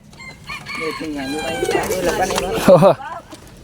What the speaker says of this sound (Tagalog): heto na yung mga ibon na ibibigay natin kay Boss Son.